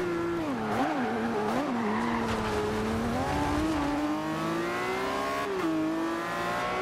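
A McLaren racing in Forza Horizon 2, its engine whining loud and close as revs rise and fall through gear changes, with a brief tire squeal, no talk.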